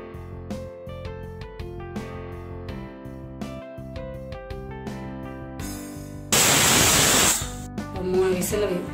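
A pressure cooker holding raw mango with turmeric and water lets out a loud, brief burst of hissing steam, over background music that plays throughout.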